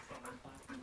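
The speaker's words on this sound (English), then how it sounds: "Let them go at the gray dogs." Gray dogs play-fight at close range, giving brief whiny yelps and growling vocal bursts in quick succession over a soft, low background.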